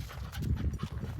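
A horse's hooves clop slowly on open ground during a ranch gather, a few soft, irregular steps close by with no one talking.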